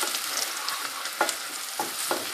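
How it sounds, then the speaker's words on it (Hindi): Daikon radish and meat fry in a pan with salt, chilies and turmeric, giving a close, steady sizzle broken by a few soft scraping stirs. "अब मैं इसके अंदर ये नमक, मिर्चें और हल्दी डाल के तो इसको फ्राई करती हूँ।"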